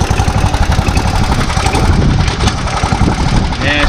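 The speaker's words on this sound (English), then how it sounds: "she's still got a little trash in the carburetor, stumbling a little" Riding mower engine, carburetor fouled with debris, idling low and stumbling with an uneven, loud close-up chug, with faint voices under it toward the end.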